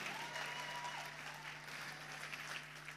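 Sustained applause from a large audience at a beauty pageant grand final, steady and dense throughout, with a faint hum underneath.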